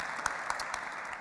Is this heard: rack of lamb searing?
no